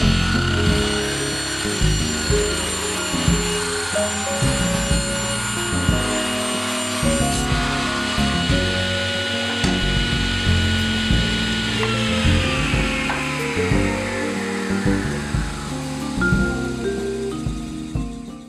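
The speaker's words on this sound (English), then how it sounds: "now I jump over to the table saw and cut that dovetail off" A table saw cuts a wooden dovetail off a miter box workpiece, a loud continuous motor hum with a high whine and bursts of blade-on-wood cutting noise, ending as the saw spins down.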